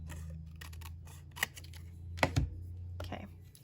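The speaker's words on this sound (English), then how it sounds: "this one still needs to be cut a little bit more" Scissors cutting a paper craft mat for a 6x6 pad project: several crisp snips and rustles beneath a low steady hum, with a faint voice in the background.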